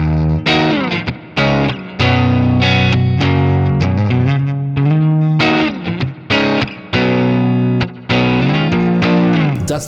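Electric guitar played with a clean Bassman-style amp tone through a NUX Amp Core Studio, a loud run of picked notes and chords with brief pauses between phrases.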